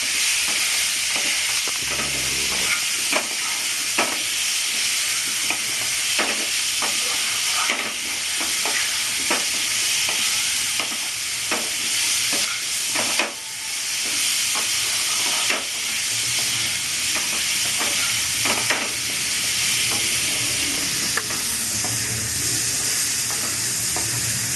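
A large onion fries in a pan for Bengali-style drumstick and prawn curry. A loud, steady sizzle runs throughout, close up, broken by occasional clicks and scrapes of stirring.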